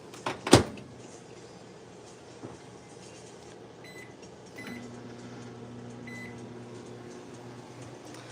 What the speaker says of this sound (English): Go stick it in the microwave for 3 minutes